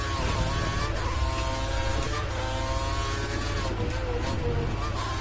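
Formula 1 car engine in a racing video game at the Australian Grand Prix, a constant high-pitched whine with shifting revs, loud and steady throughout, with occasional gear-change dips.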